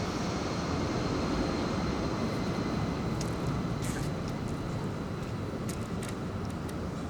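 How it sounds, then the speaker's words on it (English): Airplane taking off from a very close airfield, heard from a pool hall during a professional 9-ball match as a steady, loud, broad roar lasting the whole stretch with no break. "As a plane takes off from the very nearby airport"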